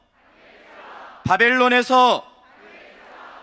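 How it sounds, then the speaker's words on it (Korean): A church congregation shouts a short one-syllable chant in unison as a call-and-response at an autumn special dawn revival service: a single loud, sustained burst of many voices lasting about a second, with quiet room tone before and after. "구호 준비하면 빛 하고 오른손을 들고요"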